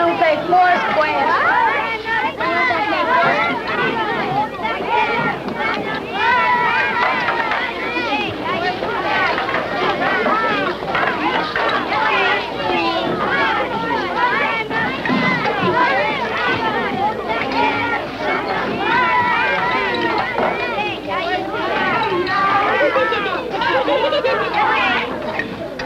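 A noisy lunchroom crowd fills the space with dense, overlapping chatter from many voices, a steady loud babble with no single speaker standing out throughout.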